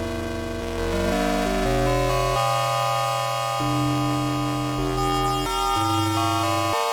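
Sustained Yamaha CS-50 analog synthesizer ring-modulated tones with a metallic, bell-like ring, shifting between chords and pitches, loud and steady with no voices.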